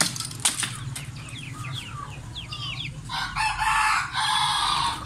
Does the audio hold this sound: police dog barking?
no